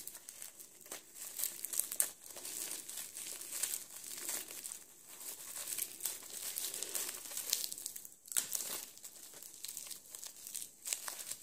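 Adhesive tape peeled off a gift crinkles and tears in repeated short bursts close up, with soft crackling between pulls; fairly quiet and no voices.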